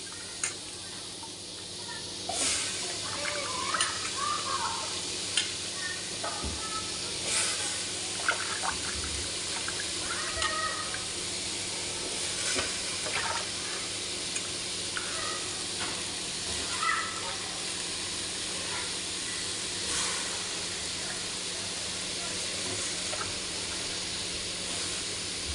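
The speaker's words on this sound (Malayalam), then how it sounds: "നമുക്കൊന്ന് ഇളക്കി കൊടുക്കാം, ഒന്ന് വഴറ്റി കൊടുക്കാം." Pieces of young jackfruit for a curry are stirred and sautéed in a pan, a steady soft sizzle and hiss with occasional scrapes of the spoon while a person talks over it.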